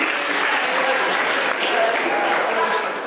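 Wedding reception guests give a round of applause for the groom, a dense, steady wash of clapping hands filling the room for about three seconds with some crowd murmur mixed in.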